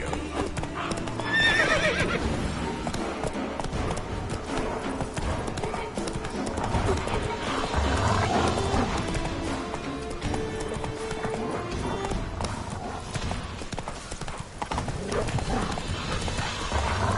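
Roach the horse gallops in Witcher 3, rhythmic hoofbeats clip-clopping steadily throughout, with a loud whinny early on, while a voice talks over the game sound.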